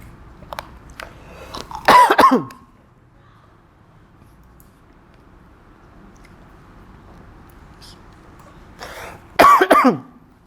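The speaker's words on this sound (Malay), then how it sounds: "Dia batuk" A man coughs twice, two separate harsh, throaty bursts several seconds apart, close and loud, with faint room murmur between them.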